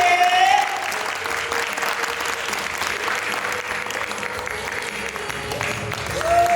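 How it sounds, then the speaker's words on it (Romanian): Audience applause at a school Christmas show for a preparatory class, steady clapping filling the hall, with a voice briefly over a microphone at the start and end. "să adunăm palmele și să le dăm cea mai mare mână de aplauze"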